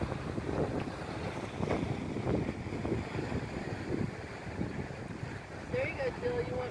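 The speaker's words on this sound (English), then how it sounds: "It's a little windy here today." Wind buffeting the microphone at Regan Beach, a steady rushing roar with gusty low rumbles, lake or sea wash underneath and a faint tonal whine near the end.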